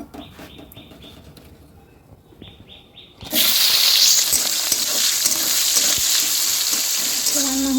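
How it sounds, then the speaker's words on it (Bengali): Rohu fish curry with potatoes cooking in a pan: a quiet start with faint background tones, then a sudden loud, close sizzle and bubbling that carries on steadily to the end. "রান্না হচ্ছে মাছের ঝোল,"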